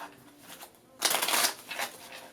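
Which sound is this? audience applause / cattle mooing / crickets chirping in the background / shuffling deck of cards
shuffling deck of cards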